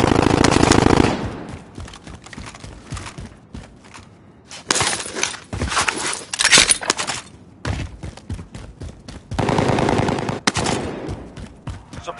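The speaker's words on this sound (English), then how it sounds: "Assault rifle." Assault rifle fire in a video game: loud bursts of rapid automatic shots, some long and sustained, separated by short pauses.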